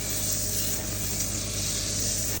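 A teaspoon of butter sizzles in a hot pan just before eggs go in, a steady, dense hiss that holds evenly throughout without pause.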